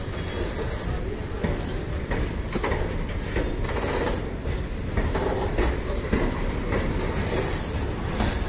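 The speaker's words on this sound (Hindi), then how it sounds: "अब ये प्लेटफार्म देख रहे हैं, मालगाड़ी जा रही है" A heavy freight train rumbles past close by at a station platform, a steady roar of wheels and rattling cars with faint clickety-clack, continuous throughout with no voices.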